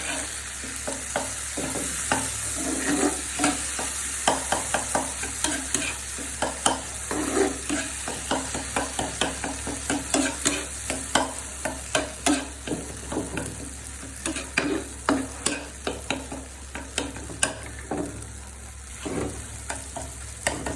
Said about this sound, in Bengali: আমার টমেটোটা আর ডিম ভাজাটা সুন্দর হয়ে গেছে।